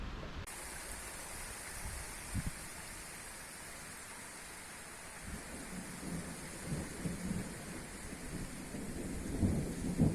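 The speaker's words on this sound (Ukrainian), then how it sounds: "О, пришвидшується дощ." Thunderstorm rain on a river during a July boat trip: a steady, dense hiss of rainfall with low rumbles of distant thunder, growing a little heavier toward the end, with no talking.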